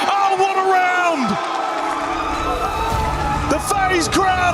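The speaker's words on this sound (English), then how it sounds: "The FaZe crowd are off their feet as they close out Consulate." A live crowd of FaZe fans cheers, whoops and shouts at an R6 Siege esports playoff event, a loud sustained roar beneath an excited commentator talking over it.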